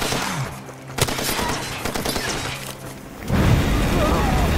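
Gunfire in Far Cry 2, rapid bursts of shots and a sharp crack near the start, then a loud heavy roar of fire and blasts in the final seconds, with a voice talking over the action.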